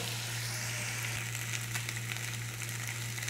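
Crushed beef for Kerala-style idiyirachi fries in a pan with a steady, even sizzle and crackle, close and continuous without any talk.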